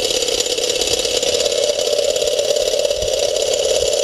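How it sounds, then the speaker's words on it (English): Solar-powered heat engine running without combustion, a steady mechanical drone with a continuous rattling hum at a constant level throughout. "the heat amount that's required for running this engine without combustion"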